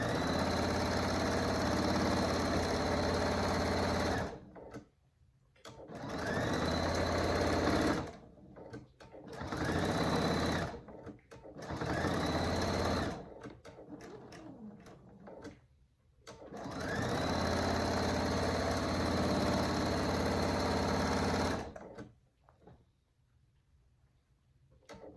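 A sewing machine stitches a fabric wallet in several loud, close runs of steady mechanical whirring, each a few seconds long, separated by short pauses for pivoting and backstitching.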